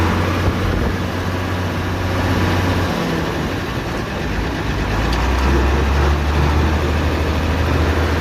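A Hino diesel truck engine runs loudly and steadily close by, its low rumble shifting pitch as gears are changed, with no talk over it.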